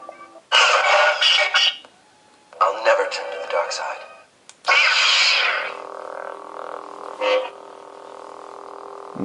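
A Graflex 6 lightsaber sound font firing off in bursts, with crackling ignition and clash blasts broken by short gaps, then settling into a steady humming drone, all close and loud.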